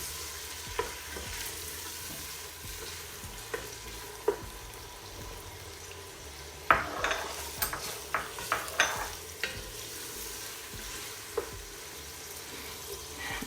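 Crayfish and meat sear in a pot for cassava leaf soup, giving a steady, soft sizzle broken by scattered sharp stirring clinks and scrapes, busiest in the middle. No one speaks.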